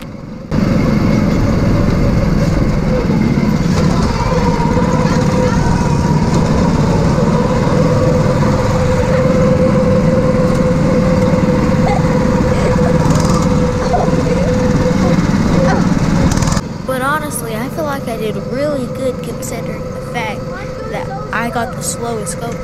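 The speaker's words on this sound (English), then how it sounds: "Also, I literally got the slowest go-kart, so that's why everybody was passing me." Go-kart engines drone steadily on a race track, a loud continuous buzzing with several karts running close by, the tone shifting partway through as the pack thins out.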